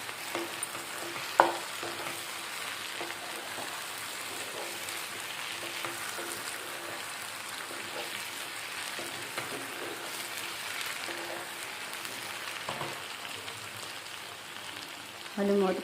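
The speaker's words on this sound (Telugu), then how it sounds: "ఇది 1 నిమిషం పచ్చివాసన పోయే వరకు వేయించుకోవాలి." Dondakaya (ivy gourd) masala curry frying in a pan, Andhra style: a continuous soft sizzle with repeated stirring and scraping, a couple of sharp utensil knocks, fairly quiet and steady throughout.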